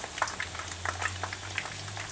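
Chicken wings, dredged in flour, fry in hot oil in a pan, giving a steady, close bubbling sizzle with light crackles and no talking.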